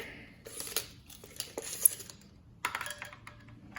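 A metal tape measure is handled at close range, giving scattered small clicks, rattles and scrapes in irregular bursts with quiet pauses between them.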